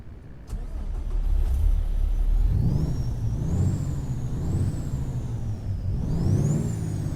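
Cummins ISX-12 truck engine on an International Prostar in American Truck Simulator, a steady low diesel drone that rises and falls with revs, a faint whine rising over it, fairly quiet and alone.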